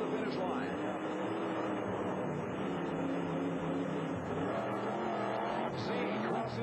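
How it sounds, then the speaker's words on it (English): A monster truck engine roars and revs continuously during a timed race run at an indoor 1991 USHRA show in Anaheim, with tonal pitch sweeps under steady announcer talk. "Getting on the throttle a little harder now and going very, very tight into the last turn"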